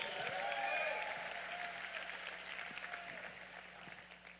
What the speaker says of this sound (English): let's give a big hand of applause to 30 years of empowerment and excellence by Dr. George Frazier